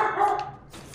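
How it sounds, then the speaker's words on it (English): A dog barks a couple of times indoors, a short muffled woof followed by a softer second bark, fairly close and alone. "Apologies for the dog, as always."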